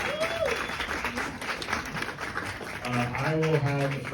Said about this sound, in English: Another round of applause for this amazing crew right here.